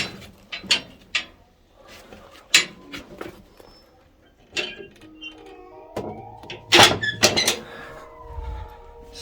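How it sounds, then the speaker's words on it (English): A door in a rock-cut tunnel beneath Saqqara is moved and shut, giving a series of sharp knocks, scrapes and metallic clanks with ringing tones between them, close and echoing in the stone passage. "So, let's close this door again."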